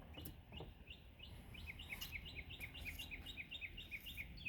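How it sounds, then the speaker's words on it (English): A red-bellied woodpecker gives a series of short repeated chirping calls, fairly faint and steady, against quiet outdoor background noise. "Woodpecker."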